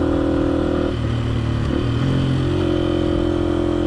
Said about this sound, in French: Ce bruit suraigu, on entend sur une certaine plage de régime, en général à bas régime, quand on accélère fort.